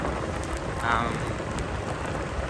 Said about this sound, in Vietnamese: vì trời nó mưa